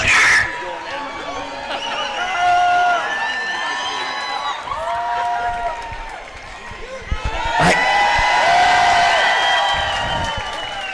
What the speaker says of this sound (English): Y'all, cheer louder.